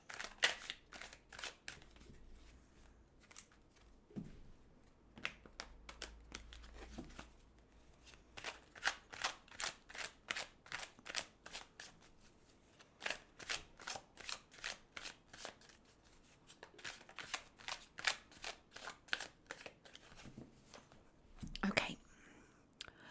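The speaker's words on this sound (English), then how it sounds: "So let's go ahead and shuffle this deck several times." A deck of tarot cards shuffled repeatedly up close, with crisp riffling bursts and soft flicks in uneven rhythm, a brief soft voice and a light knock near the end.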